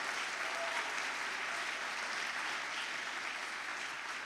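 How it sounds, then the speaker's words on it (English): An audience at an awards ceremony applauds in a steady, dense wash of clapping that holds at an even level throughout, with no voices over it. "Can we get a round of applause?"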